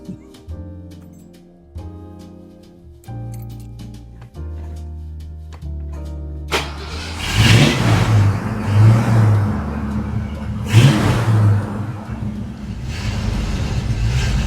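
A car engine runs after the HEI distributor module was replaced. Its loud, rough rumble with surging revs follows a stretch of sustained musical tones at the start.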